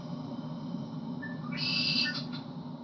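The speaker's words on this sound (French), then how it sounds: "C'est la nature, avec les oiseaux." A short game bird call in PGA European Tour Golf, a couple of bright chirps and whistles, rises briefly over a steady low hum, then fades out.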